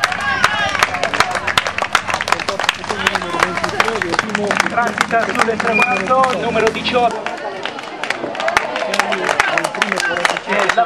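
Spectators clap steadily as young riders cross the finish line of the Recanati–Ussita youth cycling race, a loud, unbroken patter of hand claps mixed with crowd murmur under a commentator's voice.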